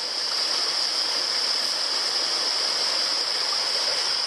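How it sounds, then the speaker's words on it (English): Pujabinya Falls, the last waterfall on the Toolona Creek Circuit in Queensland, pours with a steady, close rushing roar of water that holds even and unbroken throughout. "I've officially reached the 13th and final waterfall on the circuit, Pujabinya Falls"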